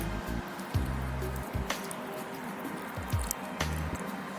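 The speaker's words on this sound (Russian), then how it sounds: "Добавляем соус." Sauce being added to chicken wings in a kitchen, heard as a few close, wet squishing squirts and drips in short bursts, each a fraction of a second long.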